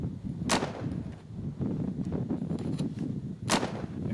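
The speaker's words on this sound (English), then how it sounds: "Fire off our guns" Two sharp gunshots ring out about three seconds apart, loud and close, above a rough low rumble of wind or ambient noise.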